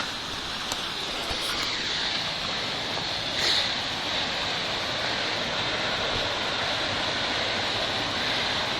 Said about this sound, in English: To the waterfall.